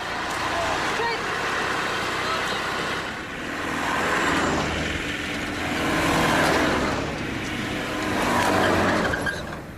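Land Rover Discovery vehicles fitted with front winches drive across rough Mongolian terrain, their engines rising and falling in several broad surges of rumbling motor noise, while a narrator talks over it.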